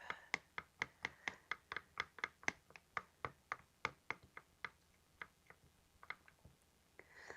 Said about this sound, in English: we're going to take the other end of our stir stick and mix this up